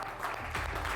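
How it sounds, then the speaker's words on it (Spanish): Audience applauding at a televised singing competition, a brief dense burst of clapping and crowd noise. "por favor, un aplauso para Itzel"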